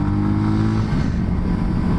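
A Voge 300 Rally motorcycle is ridden, its engine droning steadily and loudly with low rumble and wind noise throughout.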